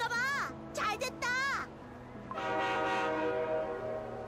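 Train horn blasts in the Cookie Run: Kingdom video game, three short rising toots followed by a longer sustained horn, loud and close over soft background music.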